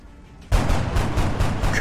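Gunfire in XCOM Enemy Within's alien combat against a sectoid, erupting after a brief quiet lead-in as a dense, loud run of rapid repeated shots that continues to the end.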